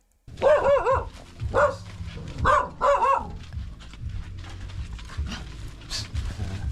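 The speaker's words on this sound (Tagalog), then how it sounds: "Ano to, may mga aso, no?" Several dogs bark in short bursts, near and loud, a few quick barks then pauses and further yips, with rustling and background noise between and no clear speech.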